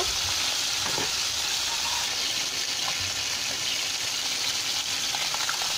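Bele fish fry in hot oil in a pan, making a constant, dense sizzle up close with no talking.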